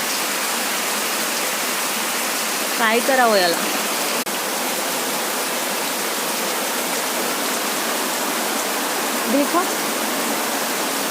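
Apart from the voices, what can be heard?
heavy downpour of rain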